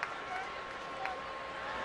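A baseball crowd fills Camden Yards in Baltimore for a Red Sox–Orioles game, a steady, distant murmur of many voices with faint claps under a commentator's voice.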